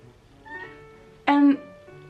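A pet cat meows once, a short, fairly loud call close by that rises above quiet room tone during a makeup session.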